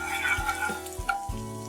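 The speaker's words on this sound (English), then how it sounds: "Give it a good stir." A spiced semolina mixture with chopped coriander is stirred in a pan, giving a soft, scraping, faintly sizzling texture in a few quick strokes under a low steady hum.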